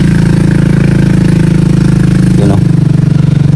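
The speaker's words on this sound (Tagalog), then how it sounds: "May motor dumaan tol." A motorcycle rumbles steadily nearby in a quiet rural setting beside a hut, its low engine drone continuous and loud, with a brief rising whine near the end as it goes by.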